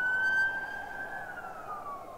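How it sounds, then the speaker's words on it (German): A wailing police siren from the police-management video game This is the Police II sweeps steadily and loud for a couple of seconds, its tone gliding slowly downward with no voices over it. "Da muss man doch nicht mit Sirene hinfahren"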